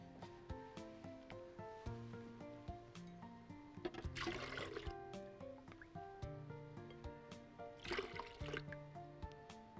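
Skim milk poured into a blender jar in two brief gurgling splashes, a few seconds apart, faint under steady background music.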